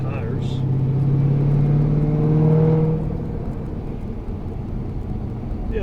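A cammed Cadillac CTS-V drives past outside near a scrapyard, its engine note rising as it approaches and then fading away, with low road rumble lingering afterward.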